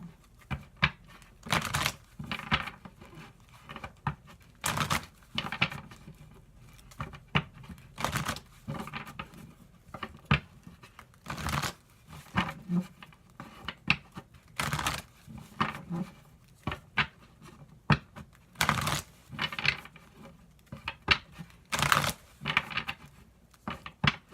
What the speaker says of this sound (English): Let's get the rest of these cards out.